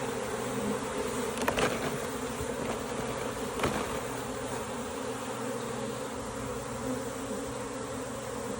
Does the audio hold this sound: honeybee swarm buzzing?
yes